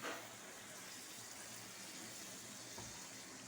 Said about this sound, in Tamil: இப்போ நான் அப்போ இதில் ஊற்ற போகிறேன்.